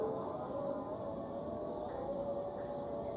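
Crickets and other insects chirp steadily at night in a dark graveyard, a dense, continuous high-pitched buzz and trill that stays constant throughout, with no voices.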